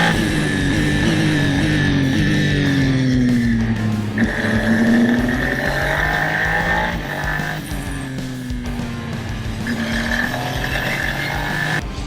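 Super Formula Lights single-seater race cars circle the Okayama circuit, their engines droning loudly with pitch rising and falling as cars pass and shift, a continuous close-up racing roar throughout.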